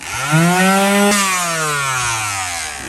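A power sander sanding fiberglass on a boat whirs loudly up close, its high whine sliding lower in pitch as the motor slows and winds down.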